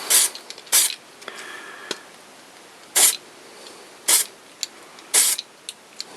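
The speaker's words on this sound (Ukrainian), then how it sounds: "короткими такими пшиками" An aerosol spray can fires five or six short, sharp hissing bursts spaced about a second apart, close and fairly loud, with small clicks and quiet gaps between them.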